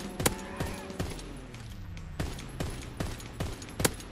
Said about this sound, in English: That was the Mad Lad machine gun.